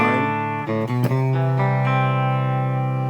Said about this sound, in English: This is my clean sound. There's a little bit of spring reverb from the Eventide H9